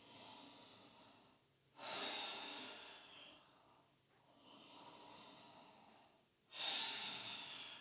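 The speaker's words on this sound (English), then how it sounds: "Breathing." Slow, deep yoga breathing close to the mic, a long exhale, then two strong inhales with a pause between them, each rising sharply and fading into a drawn-out breath.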